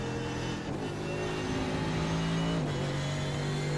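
Simulated race car engine of an ACR Zakspeed Mercedes GT3 in iRacing, a steady mid-pitched drone that holds constant before a brief pitch dip near the end, with no talk.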